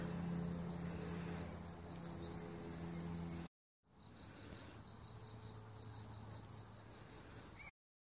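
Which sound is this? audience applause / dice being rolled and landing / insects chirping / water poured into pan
insects chirping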